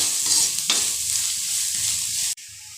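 Onions sauté in a pan for ivy gourd masala, a close, loud, steady sizzle with stirring scrapes that stops abruptly near the end before resuming faintly.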